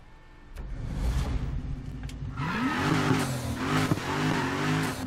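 Car engine revving and rising in pitch as tires skid in the street-racing video game Need for Speed Heat, a steady loud roar with a squealing slide, no talking.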